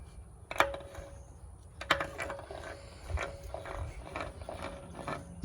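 Torque wrench tightening VW engine case bolts on an Empi 110 cam build, a few sharp clicks followed by runs of ratcheting, close and moderately loud in a quiet room.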